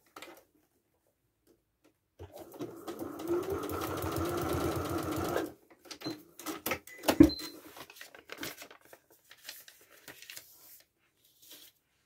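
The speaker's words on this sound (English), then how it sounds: "Just check like that before I sew." A sewing machine stitching overlapped fabric pieces runs in one steady burst of about three seconds, followed by scattered clicks and handling knocks, fairly quiet and with no talking.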